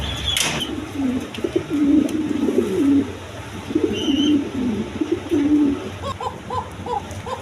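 A pair of red-eyed king pigeons at a breeding loft coo repeatedly in low rolling phrases, moderately close, with a few higher chirps toward the end.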